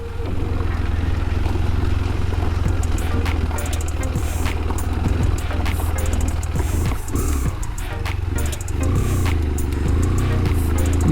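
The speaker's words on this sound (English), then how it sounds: "riding this on a motorcycle is not the easiest" A motorcycle engine drones steadily up close while the bike rattles and clatters over a rough, bumpy road in northern Sweden, with faint wind noise throughout.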